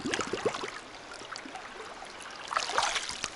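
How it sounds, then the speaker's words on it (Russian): Cold, clear water of the Selenga river near Ulan-Ude running and trickling as a bottle is filled; gentle gurgles and splashes over a steady flowing hiss, close and fairly quiet, livelier toward the end. "Да, я реально ее сейчас наберу в бутылку."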